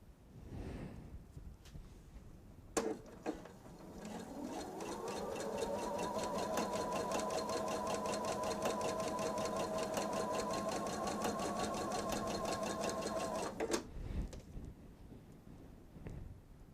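A sewing machine runs continuously while chain piecing quilt pieces, a fast steady whirring stitch that starts abruptly, holds for about eleven seconds close and clear, then stops.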